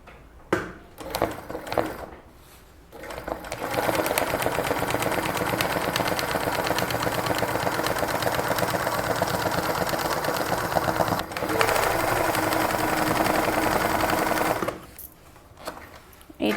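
An embroidery sewing machine stitching at steady speed, a loud continuous rapid mechanical whir running for about eleven seconds with a brief pause, and softer handling sounds at the start and end.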